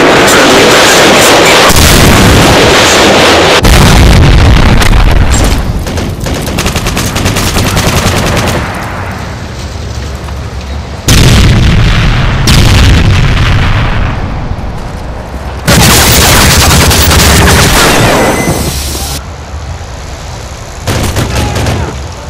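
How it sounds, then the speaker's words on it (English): Loud, booming explosions and gunfire from the Modern Warfare 3 multiplayer game, with heavy blasts striking in several separate bursts separated by quieter stretches, and occasional voices under the noise. "Predator missile ready for deployment."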